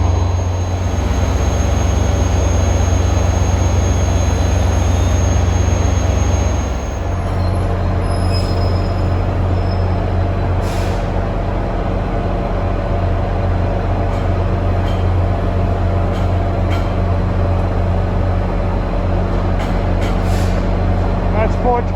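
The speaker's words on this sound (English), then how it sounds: "This is train 423 to Gladstone" A New Jersey Transit train bound for Gladstone rumbles steadily at close range, a heavy low drone that shifts partway through, with faint squeals and metallic clanks over the continuous running noise.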